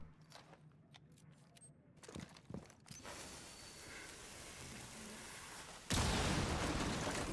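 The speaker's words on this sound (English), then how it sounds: "now Thermite will want to breach this wall" Thermite's breaching charge burns through a wall in Rainbow Six Siege: mechanical clicks and rattles build into a rising hiss, then a sudden loud, sustained burst of roaring noise cuts in near the end.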